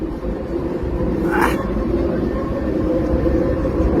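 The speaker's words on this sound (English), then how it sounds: "A train just has appeared." A train rolls along the Chicago elevated loop line, a low continuous rumble of wheels and cars with a brief brighter screech midway, heard from street level under steady city noise.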